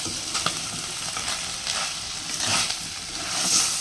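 Ground masala paste going into a pan of cooking anchovies sizzles steadily, with a broad frying hiss and a few stirring scrapes swelling near the end.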